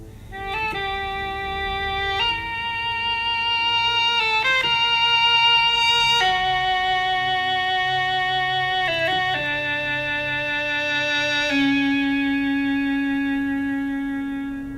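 A synthesized wind-like lead, played with a breath controller, plays a sustained melodic line with breathy swells and bends, changing notes every second or two, wet with echo and reverb.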